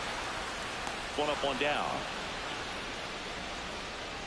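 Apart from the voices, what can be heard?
rain falling on the ballpark in MLB The Show 26 video game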